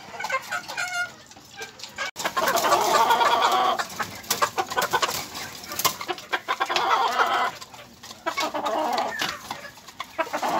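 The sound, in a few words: chickens clucking in small poultry pen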